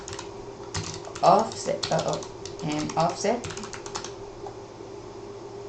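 Rapid clicking of computer keyboard keys as a folder name is typed in Unreal Engine 5, a short burst of keystrokes running under a voice, which is louder and carries across the middle of the clip.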